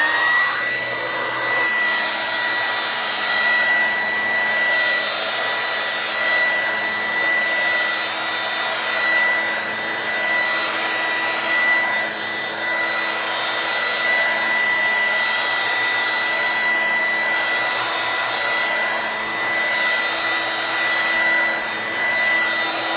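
A red vintage Dirt Devil hand vacuum runs steadily for the whole stretch, a loud, even motor whine with a high tonal hum and airy rush, no voices over it.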